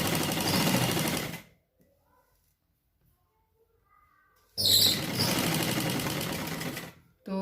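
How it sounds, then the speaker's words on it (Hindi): A sewing machine stitches piping onto a cotton garment, running in two close, steady bursts of rapid mechanical whirring and clatter separated by a few seconds of near silence. "और मशीन से कर लेंगे सिलाई"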